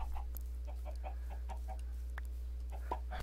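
Chickens in a Java video game give a series of short, repeated clucks at an uneven rhythm, moderately loud over a constant low electrical hum.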